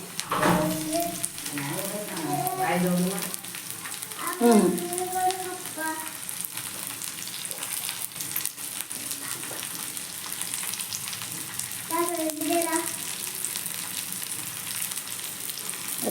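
Cumin seeds and green chilies frying in hot oil, a steady broadband sizzle that runs throughout, with a voice speaking over it in the opening seconds and again briefly later.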